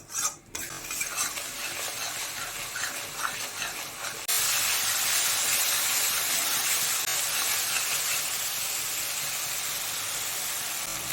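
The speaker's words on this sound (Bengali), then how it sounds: "এবার মশলাটাকে ভালো করে কষিয়ে নেব, যতক্ষণ না মশলা থেকে তেল ছেড়ে দিচ্ছে।" Spice paste for a Bengali koi fish curry is sautéed in oil in a pan, with a few stirring scrapes followed by a loud, continuous sizzle and frying hiss close up.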